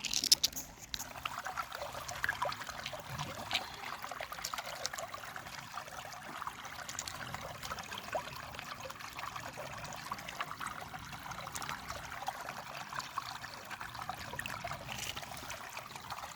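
Water pouring and trickling steadily outdoors while something is washed off, a continuous faint splashing stream throughout.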